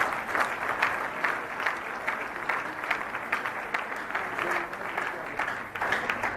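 A church congregation applauding to give glory to God, steady sustained clapping from many hands with crowd murmur, fairly distant and even throughout.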